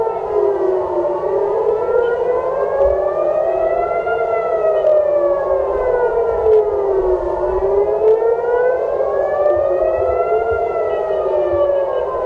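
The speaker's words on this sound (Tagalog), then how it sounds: "Yan, patuloy ang pagtunog ng sirena." An air raid civil defense siren in Israel wails loudly and continuously, its pitch rising and falling in slow, regular sweeps for the whole stretch, with no voices.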